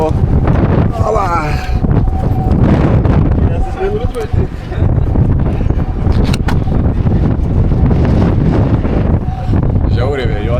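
Strong wind buffets the microphone on a boat trip to Antarctica, loud gusty rumbling throughout, with people talking and brief higher engine or hull tones underneath.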